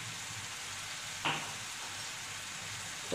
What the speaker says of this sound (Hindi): तो अब हम इन मसालों को अच्छे से मिक्स कर देते हैं।